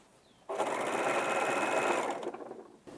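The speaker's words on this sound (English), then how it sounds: "we'll use the overlock machine to overlock the edges" An overlock machine hems the edges of a shirt, starting abruptly and running loud and steady for about two seconds before slowing and stopping, then briefly restarting.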